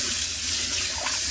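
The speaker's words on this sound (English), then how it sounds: "just rinse it with hot water" Hot water runs steadily to rinse out an old flower vase, a brief, close, continuous hiss and splash of flowing water with no talk.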